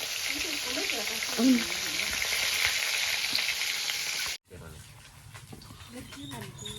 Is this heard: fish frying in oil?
yes